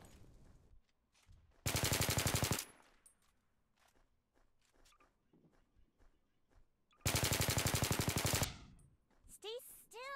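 Two long bursts of rapid automatic gunfire from a video game raid, each lasting about a second, loud and separated by quieter clicks and faint game sounds.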